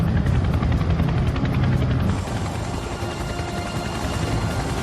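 A Chinook helicopter in flight, a loud steady rotor roar with a dense rhythmic thudding and whine that holds throughout, slightly shifting in tone partway, with no voices.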